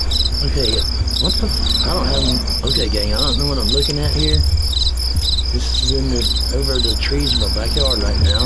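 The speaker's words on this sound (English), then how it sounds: "You can hear the crickets and stuff" Crickets chirp steadily in rapid pulsing trills over backyard trees at night, a dense continuous insect chorus, with someone speaking over it throughout.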